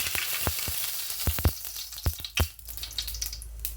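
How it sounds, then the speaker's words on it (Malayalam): Mustard seeds dropped into hot coconut oil, crackling and popping in irregular sharp bursts over a steady frying hiss, close up. "വെളിച്ചെണ്ണ ചൂടായി വരുമ്പോൾ അതിലേക്ക് കടുകിട്ട് പൊട്ടിക്കാം"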